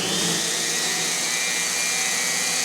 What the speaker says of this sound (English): holding this while I'm turning the Dremel on